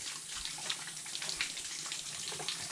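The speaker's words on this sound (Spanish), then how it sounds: "Y esta misma agua corre por acá" Spring water running over rocks in a forest, a faint, close, continuous trickle with small splashes and gurgles, no talking.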